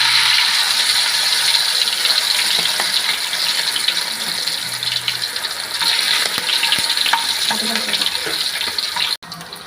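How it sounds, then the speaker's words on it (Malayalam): Chicken pieces fry in hot coconut oil for biryani, giving a loud, dense, continuous crackling sizzle with busy popping texture, close up and steady throughout, with no talking. "അതിലേക്ക് നമുക്ക് വറുക്കാനുള്ള ചിക്കൻ ഇട്ട് കൊടുക്കാവേ"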